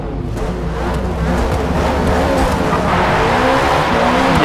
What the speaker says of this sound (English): Yeah, we get a little bit of a burn out there.